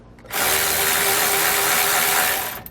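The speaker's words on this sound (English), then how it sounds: "I always like to just break that bolt loose." A 13mm socket on an extension driven by a power tool breaks a frame bolt loose on a 2019 Coachmen Mirada: one continuous, loud, close mechanical whir lasting about two seconds, then stopping abruptly.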